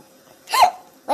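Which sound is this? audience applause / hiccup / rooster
hiccup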